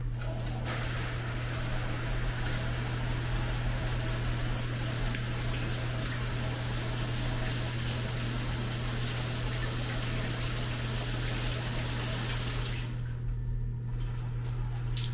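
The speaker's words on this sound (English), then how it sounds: "Let's test the shower head." A hotel shower head runs in a steady, hissing stream of water with a low hum underneath, cutting off briefly near the end before resuming.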